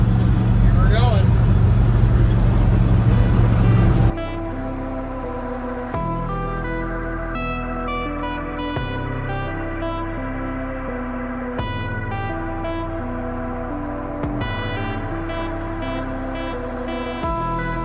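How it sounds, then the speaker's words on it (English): An old Dodge truck cruising down the highway at 65 mph, with a steady loud road and engine drone, changing abruptly after the first few seconds and carrying faint rhythmic tones. "We're cruising at 65, and I mean, it's noisy, but it's an old truck"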